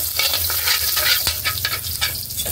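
Garlic sizzles and crackles steadily in a hot pan while a utensil stirs it, producing a dense, close frying hiss with occasional scraping taps.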